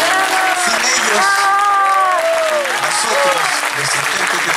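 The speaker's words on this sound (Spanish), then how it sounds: "quiero pedir el último, pero el aplauso más grande de todo" A concert audience gives loud, dense applause to the backing musicians at a live show, with voices and cheers mixed into the sustained clapping throughout.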